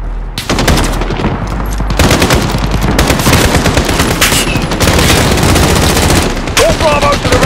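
Gunfire in a Call of Duty Modern Warfare campaign mission, loud sustained automatic bursts with rapid cracks and overlapping volleys, nearly continuous with brief gaps, while radio-style voices talk underneath.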